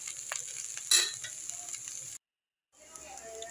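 Sliced caraile (bitter melon) sizzling steadily in a pan while being stirred, a soft scrape and clatter near the start, then a short dropout before quieter frying resumes.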